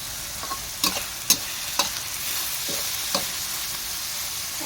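Food fries in a pan in a Thai home kitchen, a continuous close hiss broken by several sharp scraping knocks of a utensil against the pan at uneven intervals.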